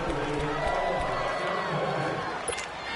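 Roaring stadium crowd noise from a football video game, Patriots versus Chicago, a dense steady wash of home-field cheering and chatter that fills the whole stretch with slight swells and a brief spike near the end.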